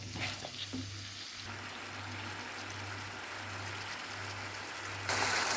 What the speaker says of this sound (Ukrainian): Грушу у карамелі потрібно просмажити 5 хвилинок.